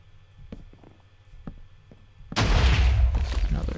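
A Minecraft explosion, set off in a world with silverfish and charged creepers, erupts as a loud, sudden broadband blast after a few faint clicks and rumbles in the background, then roars on with heavy rumble.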